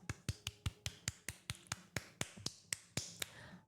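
A lone streamer claps their hands close to the microphone, about fifteen sharp, dry claps in a steady, slightly uneven rhythm with nothing else behind them.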